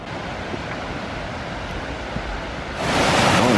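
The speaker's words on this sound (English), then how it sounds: "You can hear the rushing waters. There's a little stream down there, but you can just hear that waterfall up ahead." Rushing water from streams and small side falls near Nugget Falls by the Mendenhall Glacier in Juneau makes a steady broadband roar close at hand, swelling louder toward the end.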